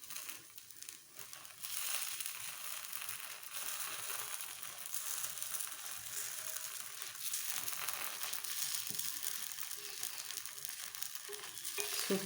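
Kuzhi paniyaram, just turned in the pan, fry with a steady, crackling sizzle that swells after a quieter start and then holds at an even hiss.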